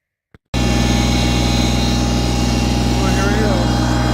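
A machine engine starts after a brief click and runs steadily and loudly while digging a trench through loose, pushed fluff sand at a wind tower site, a constant droning hum with no pauses.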